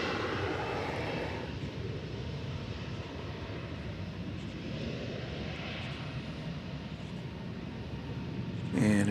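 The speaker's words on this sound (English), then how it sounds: "There goes a Delta Airbus A320." A Delta Airbus A320 jet takes off at DFW Airport, its engines a broad, steady roar held at a distance, with a brief louder burst at the very end.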